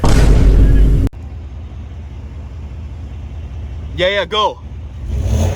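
A 2025 Ford F-150 XLT's 5.0L Coyote V8 lets out one loud, deep rev that cuts off abruptly after about a second, followed by quiet idle rumble and brief nearby voices.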